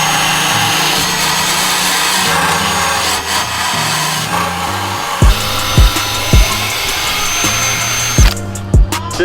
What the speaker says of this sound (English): Cisco started grinding the plate that needs to bolt on top of the transmission tunnel.